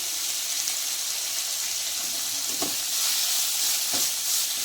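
Carrot and tomato frying in a pan for rava idli, a steady bright sizzle with soft scraping stirs at moments, close and continuous with no talk.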